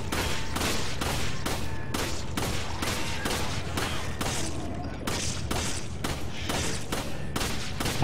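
Gunfire in the co-op shooter Resident Evil 5: a steady run of loud, evenly spaced shots, roughly two each second, cracking close for the full stretch over a continuous game background.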